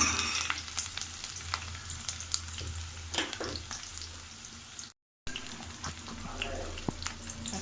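Curry frying in a pan, a steady close sizzle with scattered clicks of stirring and a brief gap of silence partway through; no one talks.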